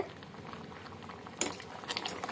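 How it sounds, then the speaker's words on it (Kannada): Sugar syrup tinted with saffron boiling in a pan, a close, quiet bubbling and popping with a sharp clink of a utensil against the pan partway through. "ಇವಾಗ ನೋಡಿ ಕುದೀತಾ ಇದೆ"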